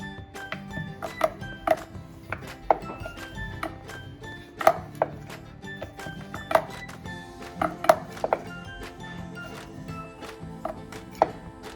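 A rolling pin rolls out puri dough on a board with steady repeated knocks and clinks at a moderate pace, close and fairly loud, over a low background hum.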